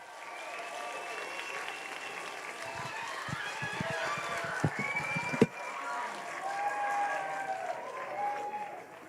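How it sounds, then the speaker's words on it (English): A graduation audience breaks into a loud burst of clapping and cheering that swells, then stops abruptly, while voices and background sound carry on around it. "one more huge round of applause"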